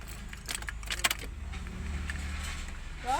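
Keys jangle close by as a Honda City car with a running fault is switched off with the key, then a brief engine rumble and a short starter whirr follow near the end.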